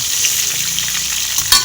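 Shrimp fry lightly in a pan with a continuous close sizzle and a sharp stir or clatter near the end, with no voices.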